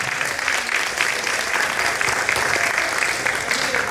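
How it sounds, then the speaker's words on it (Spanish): Warm applause for the casting winners fills the room, steady and dense clapping from a gathered audience throughout, moderately close. "Fuerte palmas para ellas"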